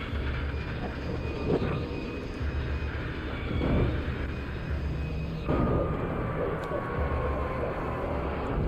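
An FBI helicopter in Alan Wake Remastered drones with a steady low rotor and engine rumble, fairly close and continuous, with a rising tone shift partway through and faint game voices underneath.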